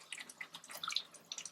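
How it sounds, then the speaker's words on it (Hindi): About half a cup of water splashes into a pan of Andhra-style chicken curry, a light, close run of drips and trickles with no voices. "आधे कप जितना पानी, इसको मिक्स कर लें"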